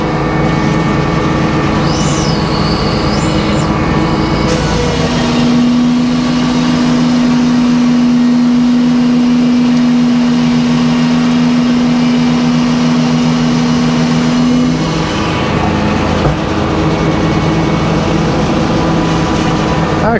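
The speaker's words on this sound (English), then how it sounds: "That old bus motor's liking this oak." An old bus motor drives a sawmill cutting through a pin oak log, a loud continuous engine drone with a steady whining tone that rises through the middle of the cut and then falls away.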